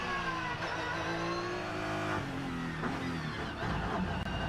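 The Grello Porsche 911 GT3 race car at the Nürburgring howls at high revs, its engine pitch climbing through gears with brief shift dips as it passes nearby, loud and continuous.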